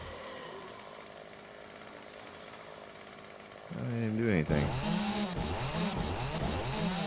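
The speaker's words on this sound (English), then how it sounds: "using this chainsaw to kill the zombies" A chainsaw in the survival game 7 Days to Die, a low ambient bed that abruptly gives way to a loud revving saw whose pitch rises and falls in repeated bursts as it cuts into zombies; a voice speaks briefly.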